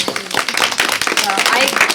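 A crowd at a Nebraska caregiving tax credit event breaks into steady applause, a dense, close patter of many hands clapping continuously, with speech faintly mixed in.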